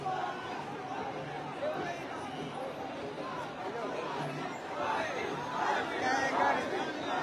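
Large outdoor crowd at Manoj Jarange Patil's Maratha peace rally in Dharashiv, a steady, dense murmur of many voices with scattered shouts swelling slightly toward the end, continuous throughout.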